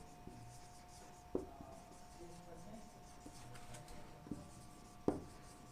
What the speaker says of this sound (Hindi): एक और मैं इसका एग्जाम्पल लिख देता हूं